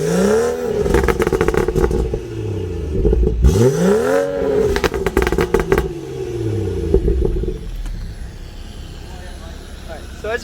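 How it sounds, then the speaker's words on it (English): A BMW 340i F30 with a B58 engine, catless downpipe and stock exhaust in Sport Plus revs hard several times, each rise and fall loud and close, with a steady idle rumble between the revs. "This is the catless downpipe with the stock exhaust in"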